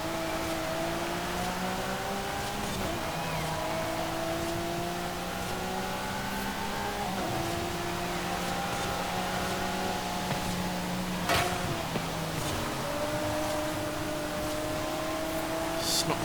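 A Ferrari SF90 hybrid supercar in Forza Horizon 5, all-wheel drive, running flat out near 200 mph, its engine holding a steady high whine that steps up through gear changes, close and constant.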